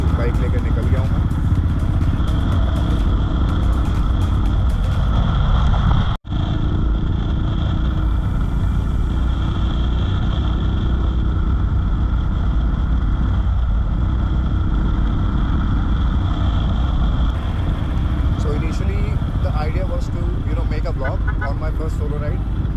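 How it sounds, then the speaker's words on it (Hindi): A motorcycle engine runs steadily throughout a solo ride, a loud, continuous mid-pitched drone with wind noise and a brief dropout partway through. "और फाइनली बाइक लेके निकल गया हूँ मैं।"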